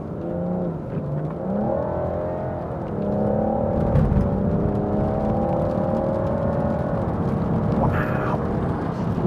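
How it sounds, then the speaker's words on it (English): A BMW 640d Gran Coupe M Sport's diesel engine pulls hard under acceleration, its steady drone climbing through the revs with a brief dip as it shifts, then rising again. Road and tyre rush sit beneath it, and it is heard from inside the car. "When have you ever heard a diesel engine sound like that?"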